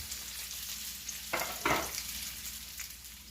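Onions sweating under a lid in a covered pan give off a soft, even sizzle, with two brief louder bursts of crackling partway through before settling back to a quiet hiss.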